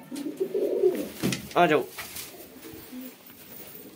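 Newly acquired pigeons give low, throaty coos and rolling calls near at hand while someone speaks over them and calls out to the birds.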